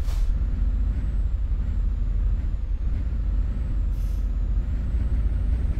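A heavy truck in Euro Truck Simulator 2 rumbles loudly and steadily with a low engine drone, while a thin high tone and a brief airy burst near the end suggest the air brake.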